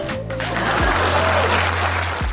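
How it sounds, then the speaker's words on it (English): Applause rolls steadily through the whole moment and stays fairly loud, with low steady tones and a brief voice mixed in. "Please clap."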